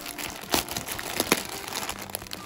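A plastic package of newly bought wool yarn being unsealed, giving close, crinkly plastic crumpling with several sharper rustles and tears, heard on its own.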